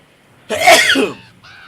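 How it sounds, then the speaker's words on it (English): A single close, sharp sneeze bursts out mid-clip during a live game stream, brief and loud against near silence, followed by a quieter trailing voiced sound. "Sorry, I felt that sneeze coming on for a while."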